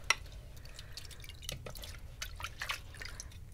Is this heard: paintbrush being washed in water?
yes